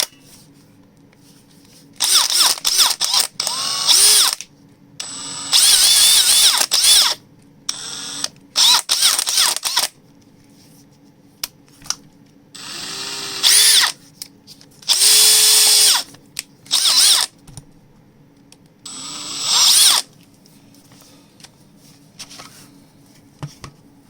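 A Makita XPH14 cordless drill runs in several short bursts, starting and stopping repeatedly with quiet gaps between. The whine is loud and close and rises and falls with each trigger pull, with no talking.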